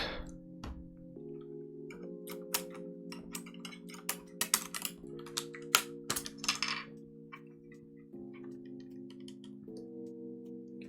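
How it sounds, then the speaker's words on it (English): Warped keycaps on a custom keyboard prototype clack as keys are pressed in quick irregular bursts, crisp and close, over a steady low background hum. "these keycaps are like warped enough so that I think they're having a little bit of return issues"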